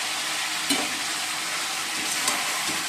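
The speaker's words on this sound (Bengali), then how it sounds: "চলো এবার ফুলকপি আলু পনিরটা একবারে দিলাম" Cauliflower, potato and paneer tumble into a pan of frying ginger paste, cumin, coriander, Kashmiri chilli and turmeric, giving a steady close sizzle with a couple of soft clatters.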